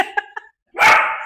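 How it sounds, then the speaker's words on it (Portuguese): Kiara the dog gives two quick yips, then one louder, longer bark, all close and unaccompanied. "Primeiro terminou com o latido da Kiara,"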